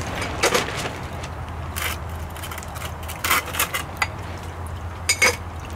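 A metal gold pan set down under the end of a sluice while its dams are pulled out, giving a few scattered clanks and scrapes at close range over a steady low background rumble.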